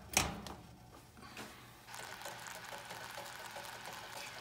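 Water trickles into a small pot for caramel syrup, following a brief clink. A quiet, steady stream of pouring continues for a couple of seconds.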